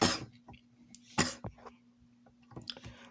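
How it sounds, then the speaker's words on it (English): An anime character coughs up blood, giving several short harsh coughs and throat-clearing bursts spaced irregularly, close and fairly loud against a faint steady hum. "he's coughing out blood"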